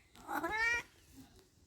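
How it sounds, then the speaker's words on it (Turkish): A single soft cat meow, short and rising, fairly close but quiet, followed by near silence. "Bu arada arkadan kedimin sesi gelebilir çok tatlı bir şekilde."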